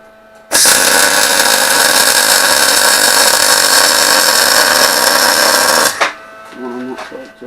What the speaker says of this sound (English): Weld that on that side, I just want to pull a tiny bit